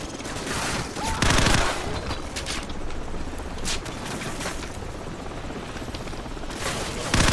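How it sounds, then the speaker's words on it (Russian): A helicopter returns in Call of Duty 4: Modern Warfare, its steady rotor drone loud and constant, overlaid by bursts of machine-gun fire throughout. "Вертолет возвращается."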